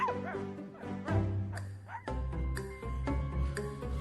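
Dog voice in a children's story yips, whimpers and barks in a series of bright, close, expressive bursts, likely performed by a person, with no other speech.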